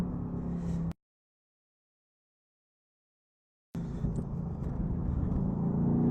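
A Mercedes-AMG GT R driven flat out on the Nürburgring Nordschleife, with a close onboard engine roar and road rumble broken by a few seconds of total silence, then the roar returns and builds.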